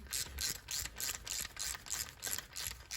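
A fork cap is threaded onto the fork tube of a Honda CRF110 dirt bike, giving a steady run of quick metallic ratcheting clicks, close and even in rhythm.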